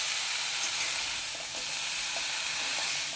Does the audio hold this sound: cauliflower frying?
yes